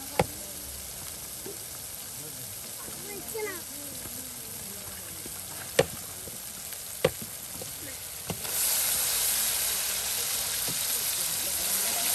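Chopped potatoes frying in a pan give a steady hiss that swells louder in the last few seconds, with a few sharp clinks and some background voices nearby.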